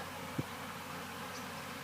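Honeybees at a Ukrainian apiary with nucleus hives give off a faint, steady buzzing drone, with one brief louder buzz as a bee passes close by.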